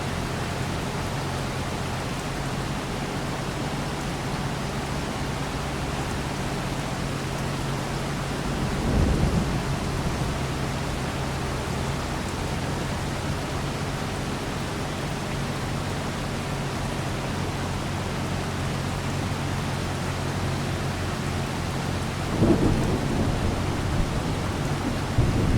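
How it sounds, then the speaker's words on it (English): Steady rain falls in Farming Simulator 25 as a constant wash of noise, with two low rumbles of thunder rolling in partway through and again near the end. "It starts to rain when it wants to, you know, affect my return on my cash."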